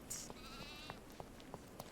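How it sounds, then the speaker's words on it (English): A sheep gives one short, high bleat in the Sherlock Holmes Chapter One video game, quiet and distant, followed by a few soft ticking game sounds. "They're sheep."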